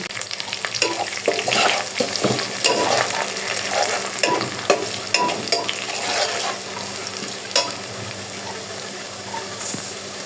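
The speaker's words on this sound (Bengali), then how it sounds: "পেঁয়াজটা ভাজা ভাজা হয়ে গেছে" Onions sizzle steadily in hot oil in a pan, with frequent scrapes and clinks from stirring scattered throughout, close and fairly quiet with no talk.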